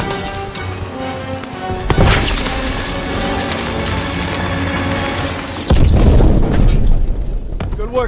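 A thermite charge goes off in Call of Duty: WWII with a loud close boom, then a second heavy blast and crashing debris, all over a continuous battle soundscape.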